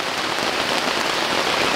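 Heavy rain drums on a tent during a stormy solo camping trip, a dense, loud, unbroken patter filling the whole moment with no voices.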